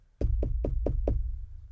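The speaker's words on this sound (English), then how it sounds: "We knock on the door." Five sharp knocks on a door, evenly spaced and quick, close and clear against a quiet background.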